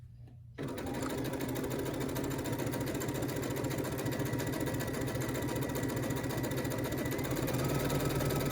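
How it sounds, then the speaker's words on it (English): Sewing machine stitching a quarter-inch seam, starting after a brief quiet moment and then running as a steady, rapid mechanical whir and clatter, close and uninterrupted to the end. "So let me go ahead and put my presser foot down, and we'll just begin to sew."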